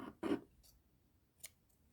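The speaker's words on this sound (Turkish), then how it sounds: "artık turuncu iple işim olmadığı için turuncu ipimi de keseceğim" Scissors snip through orange yarn during amigurumi crochet work on a giraffe rattle, giving one crisp close cut followed by a faint second click in an otherwise quiet room.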